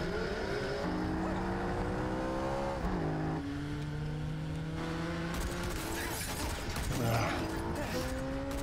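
Loud engines whine and rev steadily, pitch sliding up and down as motorcycles race by in a film chase scene from Mission Impossible: Rogue Nation, with crashes and sharp bangs layered over the roar.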